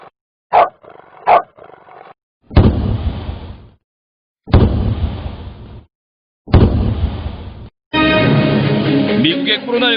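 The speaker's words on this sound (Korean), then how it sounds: "멍멍아 크게 2번 짖어줘라" A dog barks in loud separate bursts, two short sharp barks followed by several longer, heavier blasts spaced about two seconds apart, ending in a sustained noisy burst.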